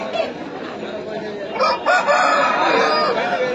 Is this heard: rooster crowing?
yes